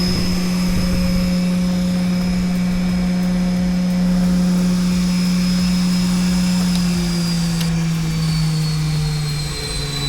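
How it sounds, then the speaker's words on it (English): Powermatic TS29 tilting-spindle shaper with a 7.5 horsepower motor running at speed, a loud steady whirring hum with a strong low tone and a high whine, slightly settling near the end. "We're going to turn it to forward, hit start"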